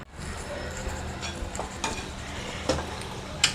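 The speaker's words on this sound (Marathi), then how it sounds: "आणि हे सगळे मी आता असे तळून घेते आणि पुढचं दाखवते." Urad dal vadas frying in hot oil in a kadhai, a steady close sizzle with occasional scraping stirs and light clinks of a utensil against the pan.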